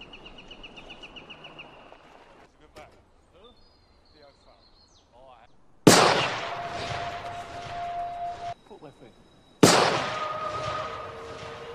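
Two loud, sharp gunshots in a film ring out several seconds apart, each trailing off in a decaying echo, after quieter ambient sounds and a high tonal whine.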